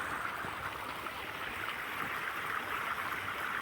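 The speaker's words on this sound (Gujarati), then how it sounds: "ધાણામાં પાણી હાલે છે" Irrigation water flows through a coriander field on a farm, a steady, even rushing wash heard close and alone with no talk.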